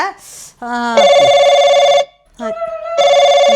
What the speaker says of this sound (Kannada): ಫೋನ್ ನನ್ನ ಮಗ ಹಚ್ಚಾನ